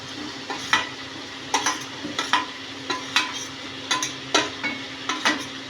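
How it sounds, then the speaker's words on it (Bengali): Prawns and pointed gourd with spices are sautéed in a pan, with a steady sizzle beneath repeated, rhythmic scraping strokes of a spatula against the pan, close by and without any voices. "এবারে মশলার সঙ্গে চিংড়ি আর পটলটা কষে নেব।"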